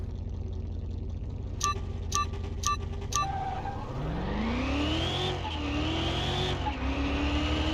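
Drag-racing Camaro with an LS engine in Car Mechanic Simulator 21, a steady loud engine roar that climbs in pitch through repeated gear shifts, with a few sharp tonal beeps near the start.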